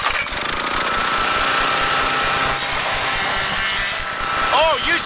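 A 16-horsepower, 2,600 RPM steel-bladed wood chipper runs loud and steady, its dense mechanical roar grinding through material without a break, with a brief rising whine near the end.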